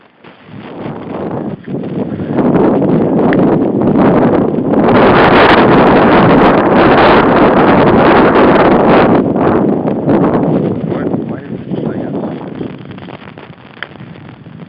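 Strong wind buffets the microphone on a golf course, a loud continuous roar that swells through the middle and eases off toward the end, with no other sounds clearly standing out.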